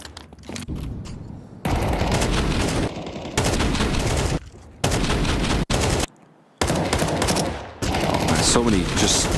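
Rifle gunfire in an EPL Season 20 esports match comes in several dense, loud bursts and volleys separated by short silent gaps, with a few brief shots at the start.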